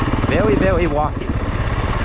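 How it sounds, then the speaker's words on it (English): Two Yamaha dirt bikes ride past at an offroad park, their engines a broad, steady buzzing drone with rising and falling revs in the first second before settling into a rougher, continuous rumble. "Oh no, it's dirt bikes. That's even better. There's two Yamahas."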